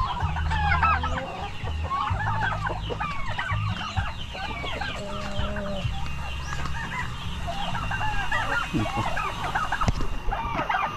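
Chickens cluck and squawk continuously in a busy yard, with a rooster-like call and a low humming background, no talking.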